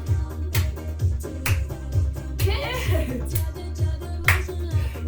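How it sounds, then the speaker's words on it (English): Hands clap in a steady beat, roughly one clap per second, as a seated exercise group follows along over upbeat backing music, with a voice briefly calling out. "We're going to take it and clap. Clap, clap."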